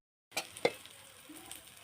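Butter dosa batter on a cast iron tawa gives a soft sizzle, with a couple of sharp ticks near the start and then a low, steady frying hiss.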